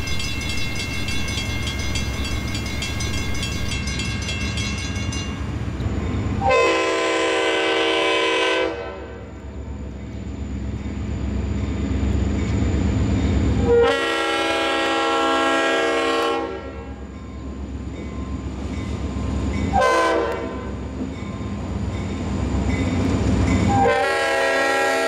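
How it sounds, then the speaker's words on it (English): A PISB train rumbles closer while its fouled air horn sounds several rough, off-key blasts, long ones separated by pauses and a short toot near the end. "The PISB train is now on the move and approaches with a fouled air horn."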